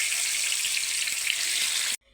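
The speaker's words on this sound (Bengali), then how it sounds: "ডিমগুলো লাল লাল করে ভেজে নেব আমি।" Boiled eggs, seasoned with salt and turmeric, fry in hot oil in a pan, giving a close, steady crackling sizzle that cuts off abruptly near the end.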